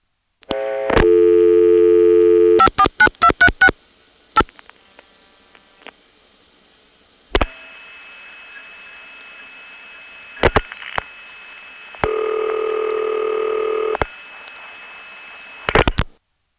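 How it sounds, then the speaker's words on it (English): Relays gonging inside a crossbar telephone exchange as a long-distance call is set up, heard as several short bursts and clicks alongside sustained tones and a long steady hum, with no voices. "you can hear the gonging that goes along with it"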